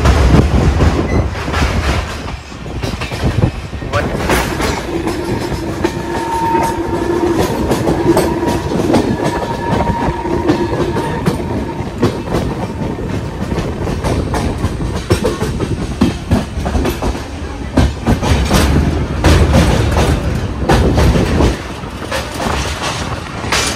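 A Mangalore Junction–Yeshwantpur weekly express train on the Bisle Ghats route rumbles loudly nearby, with rhythmic clickety-clack of wheels over rail joints, faint tonal squeals and a steady roar throughout.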